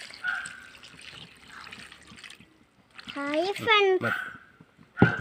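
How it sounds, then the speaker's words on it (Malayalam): Water pours and splashes briefly in short bursts into a cooking pot of egg aviyal, with a voice talking close by between the pours. "വേവാൻ ആവശ്യത്തിൻ്റെ വെള്ളം ഒഴിച്ചു കൊടുക്കാം"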